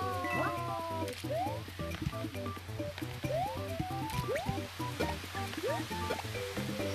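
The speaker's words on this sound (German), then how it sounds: "Oh, Wasserfontänen." Bubbly, gurgling water-fountain effects from the video game New Super Mario Bros. U play over looping game music, with repeated rising squishy bloops.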